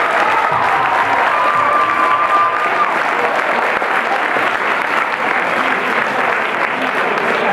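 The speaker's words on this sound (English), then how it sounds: "can we have a round of applause for all the teachers that have performed this event?" Loud, continuous applause from a school audience for teachers at a student singing event, with cheering voices and crowd noise mixed in throughout.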